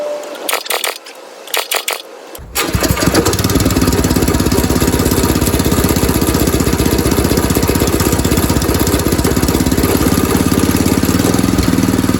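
A Sears lawn tractor fitted with a swapped-in Predator engine starts after a few short cranking bursts, then settles into a loud, steady close-up engine run with a rapid mechanical chug.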